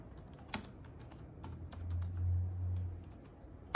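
Typing on a computer keyboard: a handful of quiet, irregular key clicks close by over a soft room hum, with no voice.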